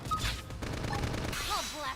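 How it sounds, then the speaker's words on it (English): Gunfire from a giant robot in the Xenoblade X video game: a rapid, loud burst of shots and impacts, with game sound effects and a voice in the background. "That's gunfire."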